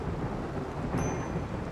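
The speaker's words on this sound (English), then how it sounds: "Luckily it is raining, so it will put itself out." Rain and thunder in the RimWorld video game: a steady dense hiss of rainfall with a low rumbling undertone throughout, loud and continuous, no speech.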